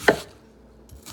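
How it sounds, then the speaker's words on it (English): A knife chopping an onion on a cutting board, one sharp close knock at the start followed by quieter scrapes, with no talk. "Chop it real good."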